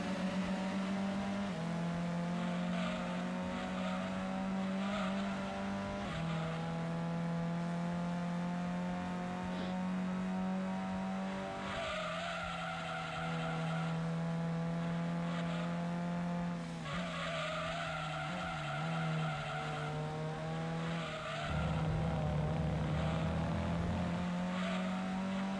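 Lancia race car in the Gran Turismo 2 video game, its engine droning steadily at high revs with pitch shifts on gear changes and repeated tire skidding and squeal through corners, loud and continuous throughout.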